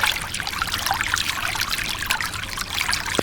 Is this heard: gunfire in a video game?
no